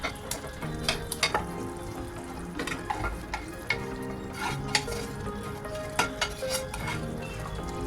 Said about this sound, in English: Now we'll add our eggplants to it